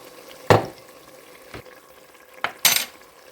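Washed rice being tipped into a pot and spread over meat for plov, heard as a few separate scraping, rustling bursts against a quiet background, the last one loudest.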